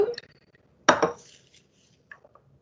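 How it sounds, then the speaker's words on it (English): Two ice cubes dropped one at a time into a smoothie shaker, giving a sharp hard clink followed by a fainter tap, in a quiet room with no talking. "So now we're going to go ahead and add our 2 ice cubes."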